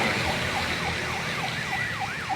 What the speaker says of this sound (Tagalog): May dalang ambulansya po. May ambulansya dito.